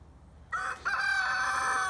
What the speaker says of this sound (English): And a rooster crowing.